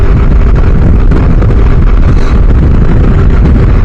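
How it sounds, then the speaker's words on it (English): Heavy wind buffets the microphone while riding an adventure motorcycle, a loud continuous low rumble and roar filling the whole stretch. "the wind's blowing pretty good, but yeah, when you're on the adventure bike, you don't notice it as much as a dirt bike"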